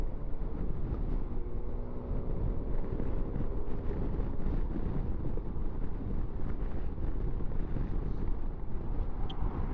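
Heavy wind roars and buffets against the microphone while riding a Suzuki Bergman scooter along a motorway, a loud continuous rushing blast with a low engine drone underneath and no speech.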